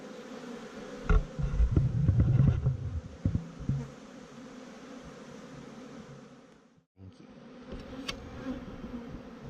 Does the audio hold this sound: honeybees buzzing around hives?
yes